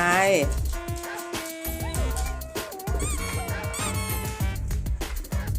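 Large ducks honk repeatedly amid a busy, layered soundscape, with a voice talking nearby over the calls.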